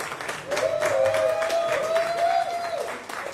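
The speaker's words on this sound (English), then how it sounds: "Please give a round of applause to Carol Ann." Scattered clapping from a modest crowd at a health event swells and continues under a whistling tone, fading near the end.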